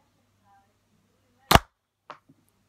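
A toy gun fires one sharp, loud crack, with a fainter second snap about half a second later. Quiet background murmur comes before the shots.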